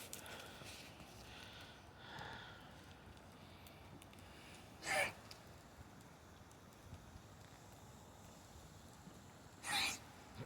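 A goat by a junkyard bonfire gives two short, sharp sneeze-like snorts, one midway and another near the end, standing out from a low crackling background.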